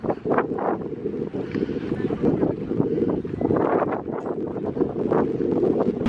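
Strong wind buffeting outdoors at a river in Rishikesh before rafting, a continuous rough roar of gusts across the microphone that stays loud throughout.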